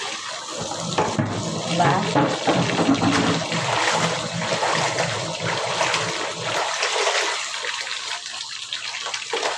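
Tap water running into a kitchen sink during rinsing, a steady splashing gush close by that thins out toward the end, with a brief word spoken.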